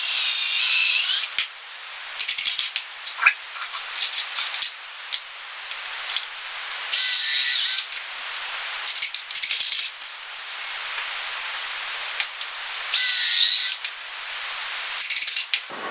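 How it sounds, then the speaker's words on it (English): A power drill pre-drills holes in a thin wooden backing piece in several short, whirring bursts separated by pauses, close and fairly loud with no talking. "I'm also going to pre-drill these holes just so that I don't split this pretty thin piece of wood"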